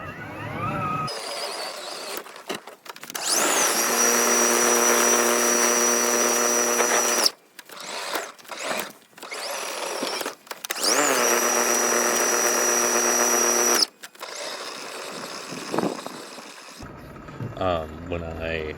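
A battery-powered snowblower runs in long, steady bursts of electric motor whine with rotating auger tones, stopping and restarting twice, with brief quieter gaps and handling noise between runs.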